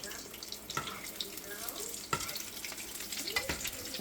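Bread rolls fry three at a time in oil over a low gas flame, giving a soft, steady sizzle with scattered bubbling pops and faint stirring.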